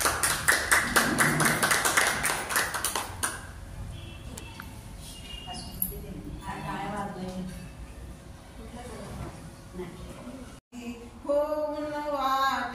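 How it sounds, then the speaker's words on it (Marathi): A crowd at a memorial gathering for Ramai's death anniversary, held at a Buddhist vihara, claps in dense, steady applause for about three seconds before it fades into speaking and singing voices. "टाळ्या वाजवे ताईंसाठी"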